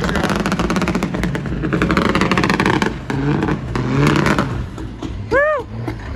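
A 1500 whp drag race truck revs and roars loudly nearby with a rough, pulsing exhaust note, its pitch rising and falling between surges, and a brief high whoop or shout cuts in near the end.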